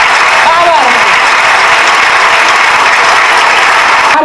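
Steady, dense applause from a crowd at a Haritalika Teej community event in the UK, loud and continuous throughout without pause.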